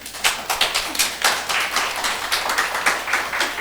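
Students clap in a lecture room during a paid certification exam prep class, a small group's sparse, irregular hand claps clearly audible, no speech.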